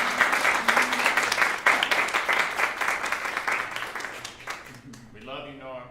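An audience claps for Norm at a religious gathering, with lively, full applause that gradually thins and fades out near the end as a voice begins speaking.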